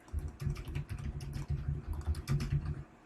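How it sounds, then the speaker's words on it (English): Rapid, uneven clatter of a computer keyboard being typed on nearby during Minecraft play, quiet but continuous bursts of keystrokes with brief pauses, no talking. "can you please keep your typing quieter?"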